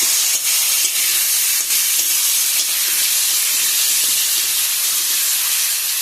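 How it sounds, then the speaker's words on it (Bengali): Potatoes and pointed gourd frying in a pan, a loud, continuous hiss and sizzle holding steady from start to finish, close up with no voices. "আলু পটলটা একটু খুব ভালো করে ভেজে নেবো।"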